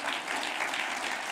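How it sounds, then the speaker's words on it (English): Audience at a public talk with Trevor Manuel breaking into applause, a dense, even burst of many hands clapping that stays steady throughout, heard alone without talk. "Deborah, please give Deborah a round of applause."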